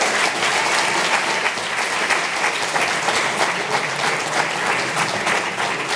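Warm, sustained applause from a seated audience at a university diploma ceremony as a graduate is honoured, dense clapping at even strength throughout, close and uninterrupted.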